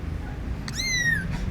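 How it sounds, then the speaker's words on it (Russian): A small kitten gives a single thin, high meow that slides slightly downward, heard close and clear over a low background hum inside a car. "Я играю с маленьким котенком"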